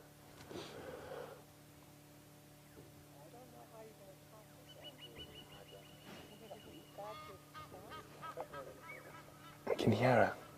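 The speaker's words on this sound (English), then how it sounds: "I can hear an Egyptian goose making noise in the distance" Egyptian goose calling in the distance at sunrise on a Sabi Sand safari, faint honks over quiet background, with a louder burst of honking near the end, and people talking softly throughout.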